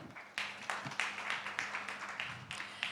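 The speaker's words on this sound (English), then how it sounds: "Can we please have a round of applause for him?" Applause from a conference audience at a panel event on private equity and venture capital, starting as a sparse patter of separate claps and then holding steady as moderate, evenly spread clapping at a middle distance.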